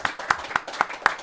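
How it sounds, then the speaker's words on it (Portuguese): Five sharp hand claps at an even, unhurried pace, close by, with a little room echo after each. "Gilberto Silva, palmas, rapaziada."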